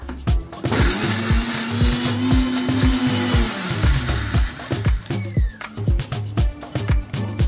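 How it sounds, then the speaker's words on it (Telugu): A mixer grinder whirs loudly up close, blending a paste with oil, running in a sustained spell and then in short repeated pulses, with no voices. "మనం మిక్సీ పట్టేయాలి ఇప్పుడు మంచిగా మెత్తగా"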